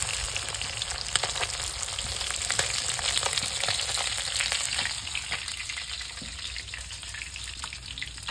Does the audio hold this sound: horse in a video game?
no